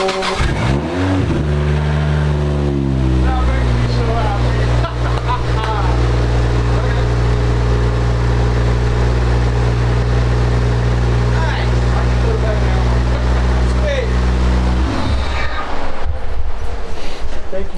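A Toyota JZX81 drift car's engine is revved hard, rising to a loud sustained roar that holds for over ten seconds before dropping back, with a rough idle before and after.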